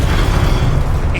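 A Confringo blasting spell explodes in Hogwarts Legacy, a loud, deep booming burst that fills the whole short moment.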